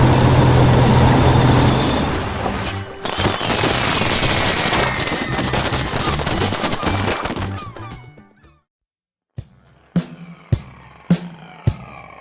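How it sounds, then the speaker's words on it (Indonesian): Fireworks crackle and burst in an animated scene, a dense loud wash of bangs and fizzing for several seconds, then a brief silence followed by a handful of sharp separate pops. "Lihat kembang api itu"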